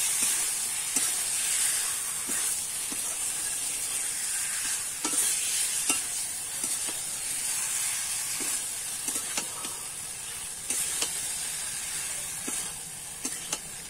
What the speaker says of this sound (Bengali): এবারে কিন্তু আলু আর কচুরমুখিটা দিয়ে দেব, দিয়ে কিন্তু আমি ভালো করে কষিয়ে নেব।